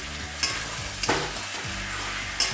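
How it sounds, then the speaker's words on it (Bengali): Chicken frying in a pan with onion and green chilli: steady close sizzling with a few sharp scraping stirs of the spatula, no voices. "পেঁয়াজ আর কাঁচা লঙ্কা ভেজে চিকেনটাকে একটু ভেজে নিচ্ছি"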